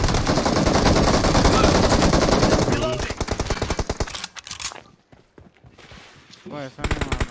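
Rapid automatic gunfire from BGMI, loud and continuous at first, then breaking into shorter bursts and single shots, with a player's voice speaking over the action.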